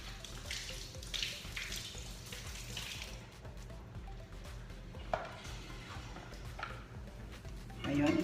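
A kitchen tap runs steadily into a sink as spring onions are washed, a continuous close splashing hiss with faint handling clatter and soft bumps of dishes, growing louder at the very end.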